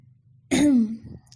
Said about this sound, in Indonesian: Dia kemudian berdehem